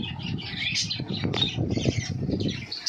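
Pet parrots give harsh squawks and chirps mixed with bursts of flapping wings, close and busy throughout, with a little low background noise.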